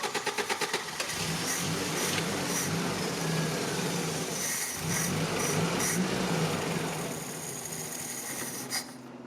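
A Toyota 22R engine with an intermittent idle fault, after a couple of throttle pumps, starts with a few rapid clicks, then runs at a steady, slightly rising rev for several seconds before dropping off.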